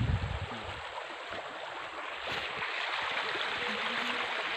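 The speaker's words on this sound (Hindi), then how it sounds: "अभी जस्ट बगल में एक नदी है" A river flows close by beside a path near a village fair, giving a steady broadband rush of water with faint gurgling and no voices, constant from start to finish.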